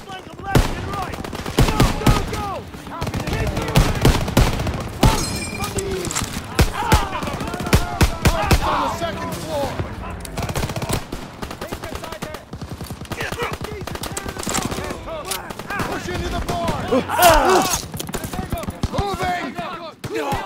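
Heavy machine gun fire in a Call of Duty WW2 battle, long rattling bursts and scattered gunshots running nearly nonstop, loud and close, with shouting voices mixed in.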